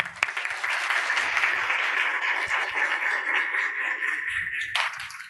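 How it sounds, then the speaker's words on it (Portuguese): A church congregation applauds its pastor with sustained, dense clapping that fills the room at moderate loudness and then fades out near the end. "Palmas para o nosso pastor."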